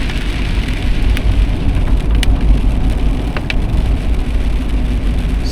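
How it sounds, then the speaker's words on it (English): Steady rain drums on a car while driving, a constant close patter with faint ticks from the windshield wipers and no voices. "So pardon the windshield wipers, but it is raining."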